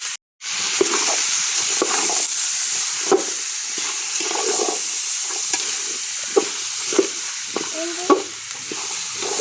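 A spoon stirs and scrapes achar pickle mixed with rock salt in a pan, giving irregular clinks and scrapes over a steady sizzle, close and alone with no voices.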